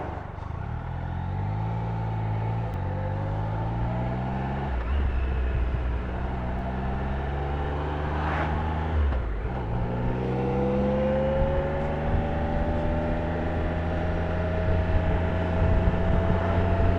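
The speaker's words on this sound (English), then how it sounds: "Be even better if it wasn't for all these cars." Cars pass close by on the road during a motorcycle tour ride, with engine tones rising and falling in pitch over steady loud wind and engine rumble.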